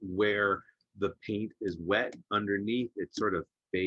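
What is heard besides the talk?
None of the usual background noises is heard.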